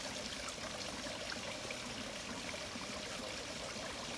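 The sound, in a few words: water cascade flowing down rock garden steps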